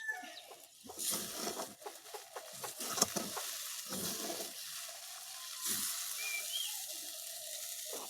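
Five mixed leafy greens with onion and potato frying and being stirred in a pan, a steady sizzle with scraping strokes, close and fairly loud, with a bird clucking faintly in the background.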